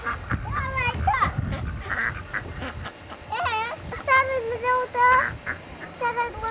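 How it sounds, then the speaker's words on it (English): Several wild ducks quack in bursts of nasal calls outdoors, fairly close, with a goose-like honk mixed in, over rustling and background noise and children's voices nearby. "Seven little ducks."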